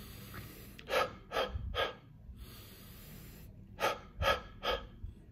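A person takes audible breaths in followed by short forceful huff coughs, five sharp exhalations heard close up in two groups of three and two, with quiet room tone in between.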